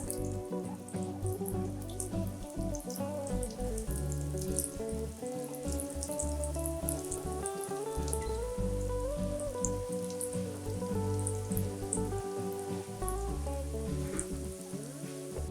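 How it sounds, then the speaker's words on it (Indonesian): Brulee bombs frying in hot cooking oil over a low flame, giving a steady crackling sizzle with fine popping bubbles that carries on unbroken throughout. "Lalu goreng brulee bomb seperti ini"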